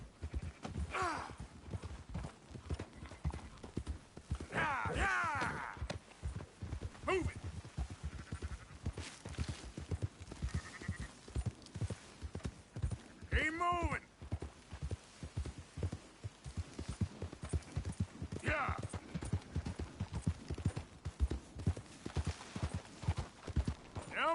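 Horse hooves clip-clop in a steady rhythm while sheep are herded in the video game Red Dead Redemption 2, with faint sheep bleats now and then over the hoofbeats.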